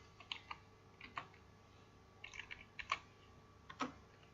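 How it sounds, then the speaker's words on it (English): Typing on a computer keyboard while entering a chart title in Excel: quiet, irregular key clicks in small bursts, faint and close, with no talking. "now I'm going to type in business analysis"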